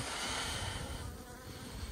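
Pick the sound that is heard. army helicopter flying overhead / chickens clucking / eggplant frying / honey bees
honey bees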